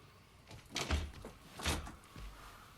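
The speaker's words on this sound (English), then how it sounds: "Shut the door." A door is pushed shut in a couple of soft thuds and rattles, fairly quiet and close, with no talking over it.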